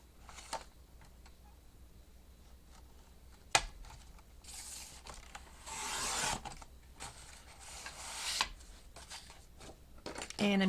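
A sheet of cardstock is trimmed with a few short scraping, rasping cuts and rustles, quiet and close, separated by pauses with small handling taps.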